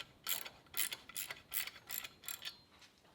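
Ratchet fitted with a 3/4 inch socket spins a nut down onto a U-bolt for a tractor tool mount, making about seven quick, evenly spaced bursts of close, fairly quiet clicking.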